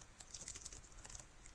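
Computer keyboard typed in quick irregular bursts of clicky keystrokes, close and fairly quiet, with no voices.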